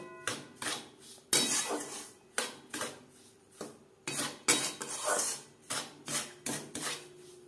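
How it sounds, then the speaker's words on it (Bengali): A spoon scrapes and clinks against a pan while semolina is mixed with milk powder, giving a steady series of near, rhythmic metallic strokes with short pauses between them. "সুজির সাথে গুঁড়ো দুধ বেশ ভালো করে মিক্সড করে দেব।"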